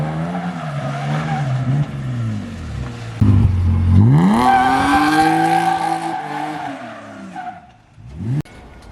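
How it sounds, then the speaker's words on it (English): A car spinning a donut with a fault that makes its engine keep cutting out: loud revving and tire squeal that rises, holds, then drops away as the engine dies, followed by a brief restart burst, close. "this weird ass issue with this car where it just constantly cuts out. And that is what just happened there."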